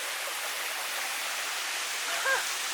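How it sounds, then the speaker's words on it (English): Water pours steadily over lava rock at a waterfall in Ka'au Crater, a broad continuous rushing wash heard at moderate distance, with a brief faint tonal chirp near the end. "And here we are at the second waterfall."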